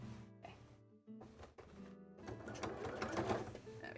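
Sewing machine stitching fabric for a cosplay costume, a steady mechanical whirr that starts and stops in short bursts early on, then runs continuously and grows louder toward the end.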